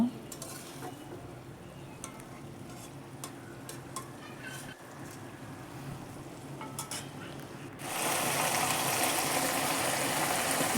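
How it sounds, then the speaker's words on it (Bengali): Coriander paste being stirred into a thick fish curry as it cooks down and dries in the pan, a steady close scraping and sizzle that swells into a louder, brighter frying hiss for the last few seconds. "ধনিয়া বাটা দেওয়ার পর এটাকেও ধনিয়া বাটা মিশ্রণ করে নেব"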